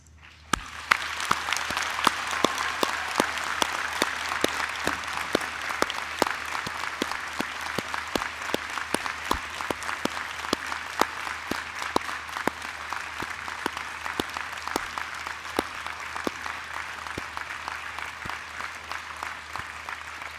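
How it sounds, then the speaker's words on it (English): Sustained applause for graduates at a university science, medicine and health ceremony, a dense hall-wide clapping that holds steady for about twenty seconds with individual sharp claps standing out, and no talk. "Please join me by congratulating our graduates in a warm round of applause."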